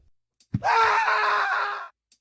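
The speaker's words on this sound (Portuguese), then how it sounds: "primeira coisa que escutamos ao acordar num apartamento é um grito de horror." A single sustained scream of horror rings out for about a second and a half on waking in an apartment in the Silent Hill 4 video game, loud and close, with near silence before and after.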